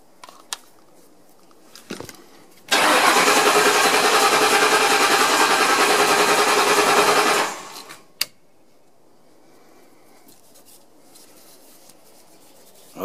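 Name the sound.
2006 Crown Victoria P-71 engine cranking via starter button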